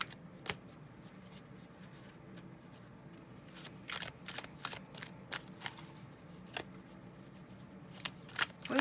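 A deck of tarot cards is shuffled during a love reading, a run of quick, crisp riffling bursts and soft slaps over a quiet, faintly hissing room, close to the microphone with no speech.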